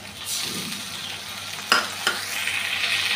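Mixed ground spice paste hits a pan of frying onion, the sizzle swelling after a couple of sharp pouring bursts, then a steady bright hiss alone.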